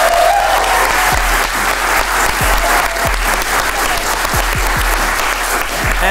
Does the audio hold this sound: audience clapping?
yes